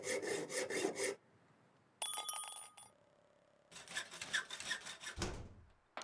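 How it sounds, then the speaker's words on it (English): A video game sawing sound comes as rasping, rhythmic strokes in short bursts, separated by quiet gaps and a brief metallic clinking passage, fairly faint overall. "I quite like the noise of the I sawing"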